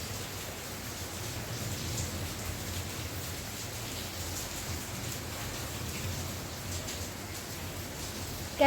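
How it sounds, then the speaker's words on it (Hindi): Steady rain falls as a constant, even hiss of drops on surfaces, close and unbroken for the whole stretch, with no voices. "बारिश बारिश।"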